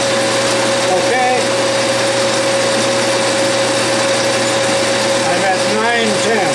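Metal-cutting machine tool taking repeated passes on a metal workpiece, a steady whining tone over dense broadband cutting noise that runs continuously and fairly loud throughout, with no talking.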